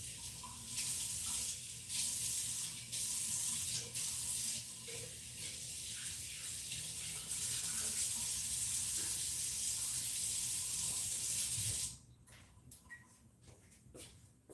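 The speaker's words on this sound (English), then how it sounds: "I'm pouring some more water through the little sieve over here" Water poured from a mason jar through a small kitchen sieve while making pozole, a steady splashing hiss that runs for several seconds then stops, leaving faint clinks and drips.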